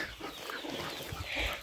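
Chickens on a small Brazilian farm cluck steadily before dawn, with short overlapping clucks and a louder call near the end, close and clear with no talking.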